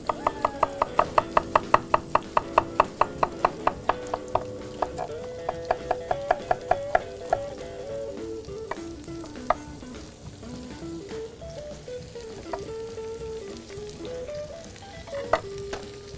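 Fennel and Vidalia onion fry in a pan with a steady sizzle, partly masked by tonal music, with a run of sharp rhythmic knocks early on and scattered clicks later.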